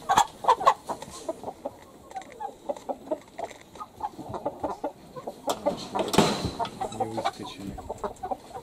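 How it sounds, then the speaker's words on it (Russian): A large Cochin or Brahma rooster clucks nearby in a run of short, uneven clucks and calls spread across several seconds, with scattered farmyard noise and no talk. "Какой огромный петушан."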